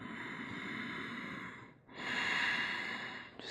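Steady, close breathing during a yoga locust pose: a long continuous airy exhale, a brief pause, then a fuller, louder inhale-like rush of breath, with no talking.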